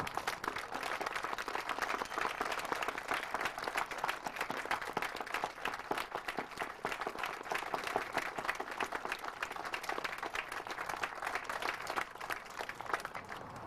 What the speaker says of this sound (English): I would just like a round of applause to thank Officer Ed Wallace